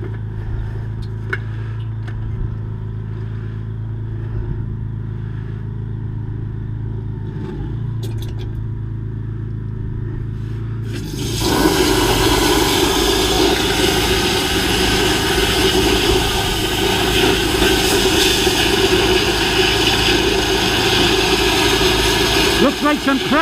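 Drain jetting machine engine running while unblocking a blocked drain: a steady low engine drone, then a sudden jump to a louder, broadband roar and hiss partway through that continues to the end.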